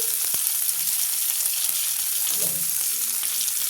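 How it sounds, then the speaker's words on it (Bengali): Tomatoes fry with salt in a pan, producing a loud, continuous sizzle with bubbling crackle throughout and no talking. "টমেটোটা ভাজা হতে হতে টমেটোটা একটু ভাজা হোক"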